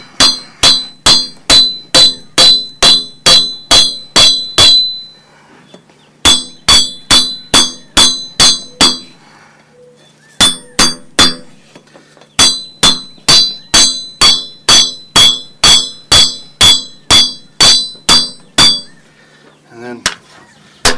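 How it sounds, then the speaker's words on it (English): Steel hammer repeatedly striking a knife blade during counter bending, the rounded face of the hammer ringing out in fast bursts of sharp metallic blows, loud and close, separated by short pauses. "I use the rounded side of my hammer to counter bend this thing"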